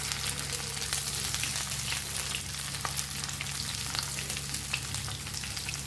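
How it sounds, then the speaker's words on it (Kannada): Steamed marakesa pieces frying and roasting in a pan on fairly high heat, a steady soft sizzle with scattered crackles and occasional stirring scrapes, no talk. "ಫ್ರೈ ಮಾಡಬೇಕು. ಚೆನ್ನಾಗಿ ರೋಸ್ಟ್ ಆಗುತ್ತೆ."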